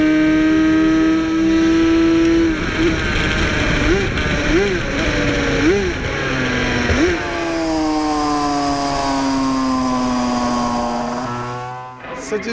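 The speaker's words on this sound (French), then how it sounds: "C'est une moto italienne qui a été fabriquée pendant l'hiver" An Italian racing motorcycle built in winter 1980–81 howls past on a circuit, its engine note climbing through several gear changes, then sustaining a high wail and fading as it pulls away.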